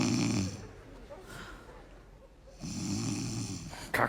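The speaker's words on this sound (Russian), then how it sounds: "Ну что ты опять будешь храпеть, я не усну опять." Close, loud snoring from a sleeping woman: a rasping snore, a quieter stretch of breathing, then a second long snore ending in a snort.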